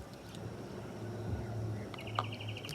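Small birds chirp outdoors at sunset in spring, with a few faint, scattered tweets and short call phrases over a quiet background hum, brightest near the end.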